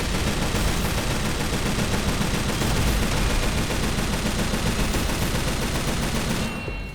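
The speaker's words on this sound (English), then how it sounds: "We just emptied an entire magazine of almost 57 rounds" A gun in the shooter game Synthetik 2 empties a 57-round magazine in one long, unbroken stream of rapid automatic fire, loud and dense from start to finish, tapering off right at the end.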